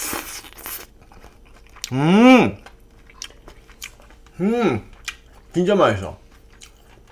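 Someone eats a Korean pork jowl rice bowl topped with onion and chili, with close, soft chewing and smacking between short bursts of speech.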